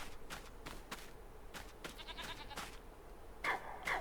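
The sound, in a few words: goat bleating in the video game Farming Simulator 25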